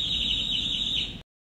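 An organ's bird effect produces a steady, high-pitched warbling twitter that continues for about a second, then cuts off abruptly into silence.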